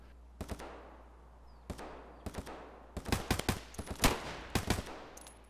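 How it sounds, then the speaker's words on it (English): Gunfire in a long-distance gunfight in the video game Escape from Tarkov: sharp, distant-sounding shots, single cracks early on, then denser clustered bursts and volleys over a low steady background, with no talk. "This is a long distance gunfight, man."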